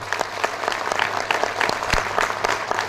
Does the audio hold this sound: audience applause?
yes